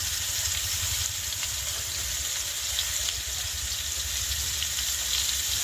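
Potatoes and pumpkin frying with salt, turmeric and chilli powder in a pan, a steady close sizzle and crackle throughout, with no talking.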